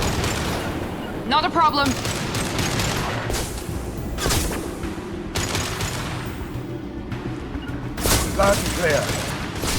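Gunfire from the video game Mass Effect 2: several bursts of rapid shots and booming blasts, loud and close, with calm radio-style voices talking over the battle.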